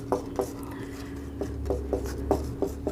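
Chalk or marker strokes on a classroom board, a run of short scratchy taps and rubs at an uneven pace, fairly close but soft, with no voices over them.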